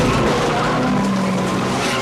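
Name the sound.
tires skidding during a car chase in the film Point Break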